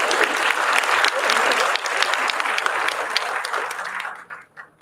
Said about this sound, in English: maybe you give me an applause.